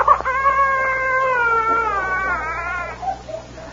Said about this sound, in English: Well, what do you know? A stray cat.